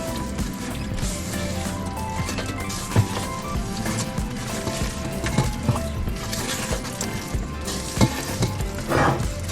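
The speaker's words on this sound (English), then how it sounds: "Mix it through, just making sure we get all that sugar and flour off the bottom." A wooden spoon works through a sugar and flour mixture in a small boat galley, giving busy scraping and stirring with a few sharper knocks against the bowl over a steady background, with no voices.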